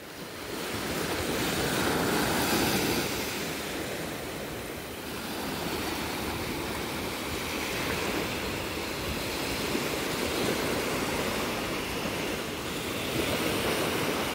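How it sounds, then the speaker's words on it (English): Ocean surf rolling onto Uddo Beach in Goa, a continuous loud roar of breaking waves with gusty wind buffeting the microphone, no voices. "Some beach sound for you guys again."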